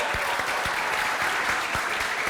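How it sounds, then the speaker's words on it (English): A crowd at a college graduation ceremony applauds parents and caregivers, with steady, dense clapping and a few distinct close hand claps standing out. "let's give the parents and the caregivers a big round of applause"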